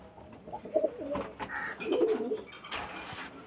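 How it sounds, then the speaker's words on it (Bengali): Breeding pigeons cooing inside a loft, several soft throaty coos rising and falling close by across a few seconds with no talking. "এখানে সব রকমের পায়রা আছে এই যে ব্রিডিং পেয়ারটা দেখুন"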